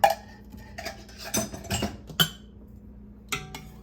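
A spoon clinks and scrapes against a pot while stirring Italian creamy tortellini soup, a handful of quiet metallic taps spread across a few seconds with pauses between.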